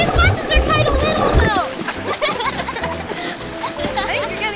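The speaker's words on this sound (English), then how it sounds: "Whoa, my splashes are huge!" Children's splashes in a swimming pool slosh and spatter loudly in the opening seconds, then thin out as animated characters talk excitedly over the water.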